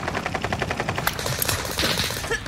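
Rapid automatic gunfire in a video game, a dense rattling burst of shots in quick succession with a few sharper cracks, loud and continuous throughout.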